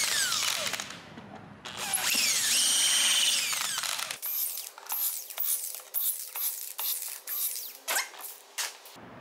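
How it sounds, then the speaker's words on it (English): A 1/4-inch drill bores a small hole into a Corian solid-surface sink, first a loud rising and whining spin-up, then a series of short bursts and pauses as the bit bites into the material. "I'm gonna use a 1/4-inch drill and I'm just gonna drill it down just a little bit"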